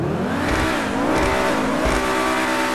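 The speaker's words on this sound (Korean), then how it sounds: "먼저 배기만 한번 들어보고." Engine of an Übermacht SC1 rear-wheel-drive sports car in Gran Turismo 5, revved while standing: a steady, loud exhaust drone that rises and falls in pitch with throttle blips, with no talking.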